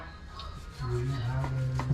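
A knife slices through raw pork belly on a cutting board, a few soft scattered cuts over a steady low hum, close by.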